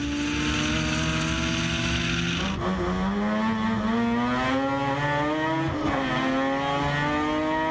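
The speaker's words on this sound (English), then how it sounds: "it's a Group C RX-7, so runs a 13B peripheral port." Injected 13B peripheral-port rotary engine in a Mazda Group C RX-7 race car, revving hard and close with a raw, buzzing snarl, its pitch dipping and climbing twice through gear changes and throttle lifts, with no talk.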